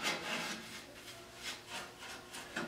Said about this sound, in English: And I'll try to paint the floor here in between.